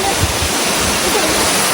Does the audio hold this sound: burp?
no